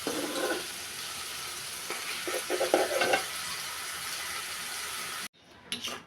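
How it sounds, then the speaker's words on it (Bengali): Prawns stir-fried in mustard oil for a spicy prawn curry, a steady loud sizzle with scraping stirring strokes that cuts off abruptly near the end, followed by faint clatter. "তো কষিয়ে নিচ্ছি ভালোভাবে, নেড়ে চেড়ে ডেকে ডেকে ভালোভাবে কষিয়ে নিব।"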